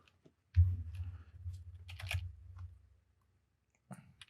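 A few scattered keyboard clicks on a computer used for 3D retopology work in Maya and ZBrush, soft and close, under a low steady hum, with a short gap near the end before another tap.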